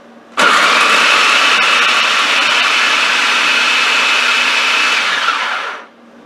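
A blender switches on abruptly and runs at full speed for about five seconds, pureeing garlic with olive oil in a loud, steady high-pitched whir, then winds down and stops.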